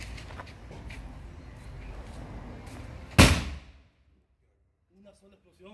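After some background noise, one loud firecracker bang bursts out and fades quickly into quiet, with a voice starting up afterward.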